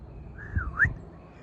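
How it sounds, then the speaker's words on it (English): A man missing three front teeth tries to whistle, producing one short, breathy tone that rises, dips and rises again before fading, close and alone over faint room noise. "Can't really whistle. I have no front teeth."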